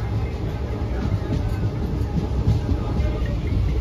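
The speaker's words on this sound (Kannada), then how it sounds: "ಇತ್ತ ಬರ್ಪುಂಡು ಟ್ರೈನ್ ನಮ್ಮ" A passenger train rolls past near a village, its steady broadband rumble and rail noise holding loud and even throughout with no clear pauses.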